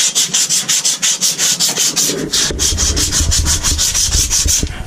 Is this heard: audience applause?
no